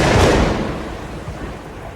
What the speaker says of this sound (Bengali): বৃষ্টিটা আবার জোরে এলো, দেখুন কেমন বিদ্যুৎ চমকাচ্ছে